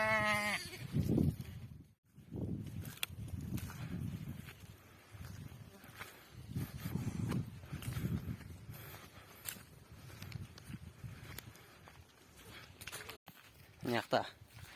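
Sheep and lambs bleat outdoors on sandy open ground, with several drawn-out wavering calls rising at intervals, fairly close, amid voices and faint footsteps.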